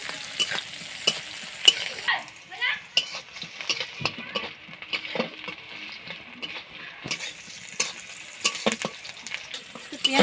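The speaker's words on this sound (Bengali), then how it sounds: "মাংসটা ভাজা হয়ে গেছে" Meat frying in a pan over a village cooking fire, a soft steady sizzle with frequent scraping stirs and light clinks of utensils against the pan, close by with no talk.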